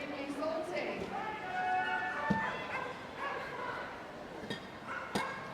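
Dogs at a Crufts flyball team race barking and yipping excitedly in a large arena, several sharp barks over crowd murmur and a commentator talking.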